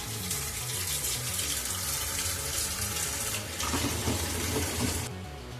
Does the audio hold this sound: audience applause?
no